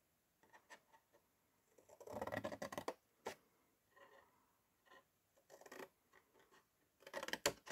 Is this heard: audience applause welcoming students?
no